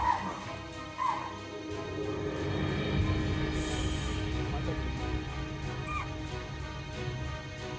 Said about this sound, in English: Tiger attacks a guard dog in a village.